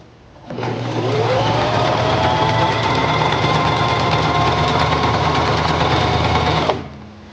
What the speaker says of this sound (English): Place the fabric under the presser foot, lower the presser foot, and begin sewing.